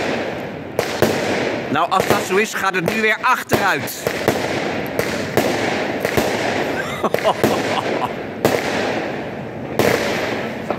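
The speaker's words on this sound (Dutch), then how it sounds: "En de knallers zijn volgens mij weer harder dan voorgaande jaren." Firecrackers and fireworks go off on New Year's Eve in a dense, irregular barrage of sharp bangs and crackling bursts, some near and loud, others farther off, while someone speaks Dutch over them.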